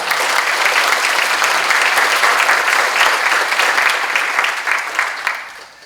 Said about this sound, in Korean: 힘차게 서로 환영의 박수를 보내주시겠습니까?